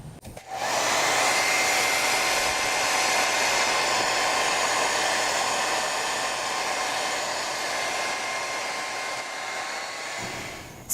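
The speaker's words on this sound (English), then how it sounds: "So I'm going to get my hair dryer out and dry this a little bit" A hair dryer blows steadily on paint over a freezer-paper stencil, a loud, continuous close-up rush of air that runs unbroken for about ten seconds before cutting off.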